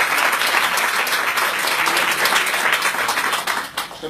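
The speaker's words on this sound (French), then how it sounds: "On applaudisse très très fort pour Florence pour tout ton travail." Loud, sustained applause from an audience at a women's gathering, a thick wash of clapping that holds steady before easing off slightly at the end.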